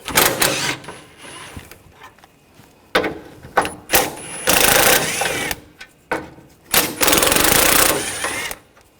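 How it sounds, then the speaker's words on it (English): Bolts are run out with a 13mm socket on a Nissan Rogue during radiator replacement: several loud buzzing bursts from a power ratchet or impact tool, separated by short pauses and small metallic clicks, all close by. "Take these bolts out. Use a 13mm socket."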